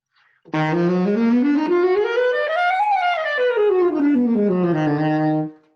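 A single bowed instrument plays a harmonic minor scale smoothly up and then back down, each note sustained and clear, loud and close, with no voices.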